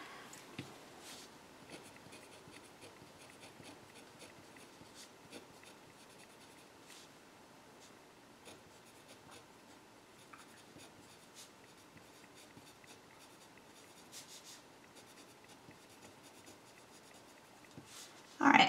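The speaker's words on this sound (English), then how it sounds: "Let me write that down." Pen or pencil writing on a paper worksheet, soft scratchy strokes and faint taps that continue quietly and unevenly for the whole stretch, with no talking until a brief louder noise at the very end.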